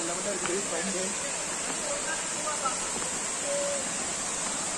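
A steady rushing roar of the Koriyaru waterfall in the Eastern Ghats near Trichy fills the clip, with people talking and calling faintly underneath.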